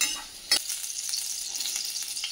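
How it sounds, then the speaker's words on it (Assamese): Paneer pieces frying lightly in a hot pan give a steady, close sizzle, with one sharp stirring clack near the start and soft scrapes along the way. "মই বেছি পনীৰো নহয়, ভাজি ল'ম অকণমান।"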